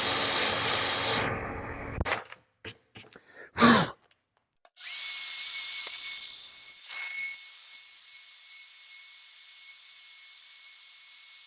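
A power drill bores a hole into a workbench top: a loud high whine for about two seconds, then several short stop-start bursts and a longer, steadier run, with quiet gaps between.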